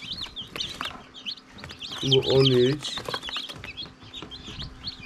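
Many tiny high-pitched cheeps from newly hatched chicks in an incubator chatter continuously, with a voice speaking briefly among them.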